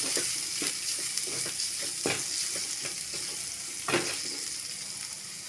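Turmeric and chili masala for a vegetable side dish fries in a pan with an even hiss, while a spoon scrapes and clicks in a quick irregular rhythm and no one speaks.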